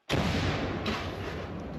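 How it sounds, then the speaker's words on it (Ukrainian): A single loud artillery blast erupts abruptly from silence, then rolls on as a long, sustained rumbling boom that slowly fades. "Гармата!"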